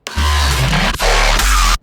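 Loud, heavy synthesized hybrid trap growl bass with a gritty, snarling texture, two sustained bursts split by a brief dip, no voices.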